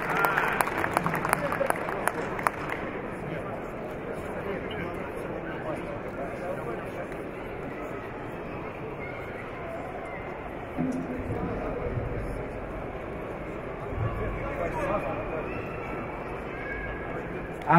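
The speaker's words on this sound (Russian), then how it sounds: "Отлично. Аплодисменты." Crowd applause fills a busy expo hall at the Moscow Dive Show 2021, a dense, steady patter of clapping that runs throughout under ongoing talk and hall chatter.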